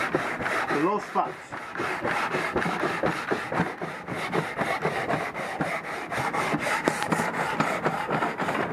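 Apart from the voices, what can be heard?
sanding warped cylinder head with 80 grit sandpaper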